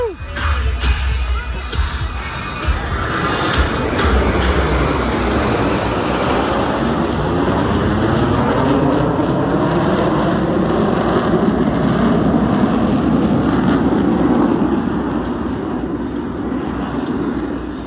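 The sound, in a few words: US Navy Blue Angels jets flying at an airshow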